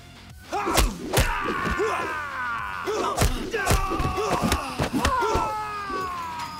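Heavy kicking thuds and sharp impact hits land one after another in a brawl in the video game Midnight Fight Express, mixed with grunts and harsh synthetic whooshes, loud and busy.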